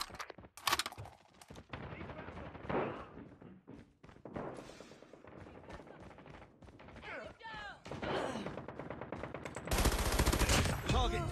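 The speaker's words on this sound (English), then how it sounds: "Sentry gun deployed." Sentry gun in COD Mobile firing in scattered automatic bursts among game effects and announcer voice lines, ending in a dense, loud stream of rapid shots.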